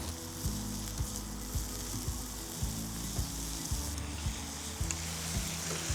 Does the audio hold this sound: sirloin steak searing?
yes